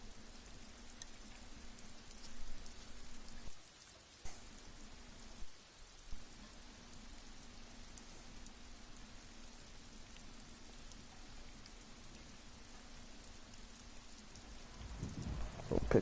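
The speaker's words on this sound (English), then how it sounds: "Rain's a good sound." Steady rain falling in the video game Disco Elysium, a faint constant hiss with a low hum underneath, unbroken for the whole stretch.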